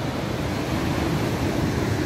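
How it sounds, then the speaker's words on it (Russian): Stormy sea surf crashing onto the shore at Arkhipo-Osipovka on the Black Sea coast, a steady roaring wash of breaking waves with wind noise, loud and continuous throughout. "Волны сегодня просто шикарные"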